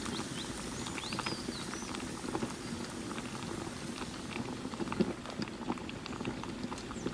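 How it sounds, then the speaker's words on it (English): Ginger and lemongrass sautéing in cooking oil for a pork rib dish, a soft, steady bubbling sizzle with faint crackles, quiet and close with no voices. "Sauté ginger and lemongrass for 15 seconds."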